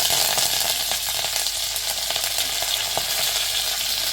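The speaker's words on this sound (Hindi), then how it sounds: "लहसुन ब्राउन हो गया है तो हम इसमें करी लीव्स ऐड कर देंगे" Curry leaves sizzle hard in hot oil with browned garlic, a dense, steady crackling hiss with scattered pops, loud and close, with no speech.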